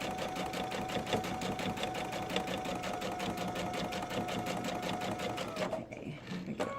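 A sewing machine stitches steadily over flat pins, its needle running in a fast, even mechanical rhythm up close before stopping abruptly near the end.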